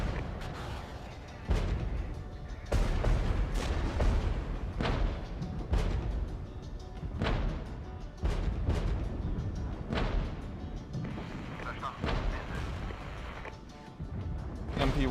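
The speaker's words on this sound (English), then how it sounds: "it's kind of crazy to see all this mortar fire." Mortar fire in the video game Regiments rumbles in repeated heavy booms and thuds at irregular intervals, loud and dense, with battlefield noise filling the gaps.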